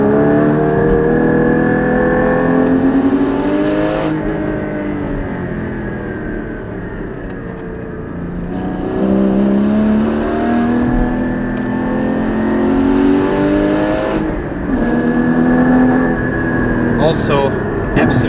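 A Porsche 981 Cayman GT4 engine revs up through repeated loud acceleration pulls with gear changes between them, heard from inside the car on a Black Forest road while someone talks over the engine note.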